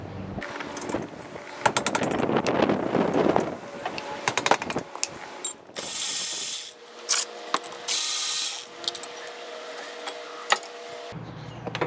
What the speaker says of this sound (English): Removing the caliper, 2 bolts, one here and one here.